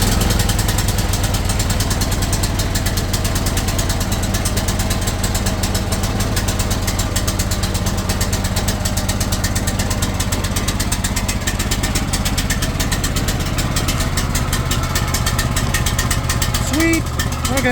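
A small 420cc engine swapped into a 1987 Oldsmobile Cutlass Cruiser wagon runs steadily with a loud, continuous chugging drone that holds for the whole stretch.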